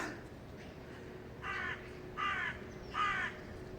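Three harsh crow caws, evenly spaced, ring out over a steady outdoor background hum.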